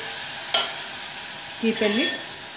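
Pumpkin seed chutney with tomatoes and coriander cooks in a pan under a steady soft sizzle, broken by one sharp utensil clink and then a brief scraping stir near the end.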